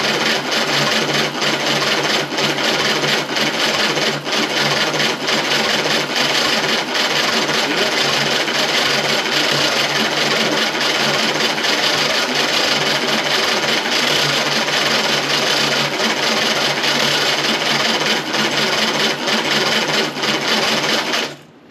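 A 1935 Austin 7 engine cranks on its starter motor at full throttle with no choke, a loud, fast, steady mechanical churning that runs without catching for over twenty seconds before stopping abruptly.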